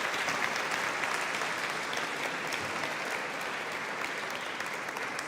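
An audience at a gala and benefit evening art auction applauds the winning bidder: steady, dense clapping from many hands that fills the whole stretch at an even level.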